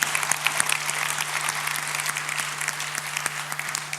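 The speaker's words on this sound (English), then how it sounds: "I think we should give a big round of applause to all our startups." Audience applause for startups on the main stage at the Slush 2012 finals, a steady wash of clapping heard at moderate distance over a constant low hum.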